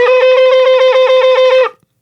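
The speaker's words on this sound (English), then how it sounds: "A teruah is at least 9 pulses." A shofar sounds a teruah, a rapid, even run of about a dozen short pulses on one bright, buzzy pitch, loud and close, ending abruptly with no talk.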